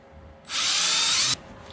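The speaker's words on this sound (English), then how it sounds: "He's countersinking. Chamfering him." A power drill whirs in one loud, steady burst of just under a second while countersinking a small pilot hole in wallboard, starting and stopping abruptly.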